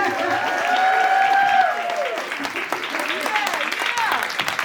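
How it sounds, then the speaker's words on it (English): A crowd applauds steadily at a Carrboro Women's History Month celebration, with the clapping fairly loud and sustained across the whole stretch while voices and cheers rise over it. "Let's give one big giant round of applause"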